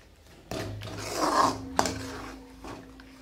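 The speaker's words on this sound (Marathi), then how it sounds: "ह्याच्यात हे आपण गूळ आणि ते एकत्र करून आता एक सारखं सतत हलवून घ्यायचं आपल्याला." Raw mango and jaggery are stirred together in a pan, producing a close rasping scrape that swells and fades, with a sharp knock partway through.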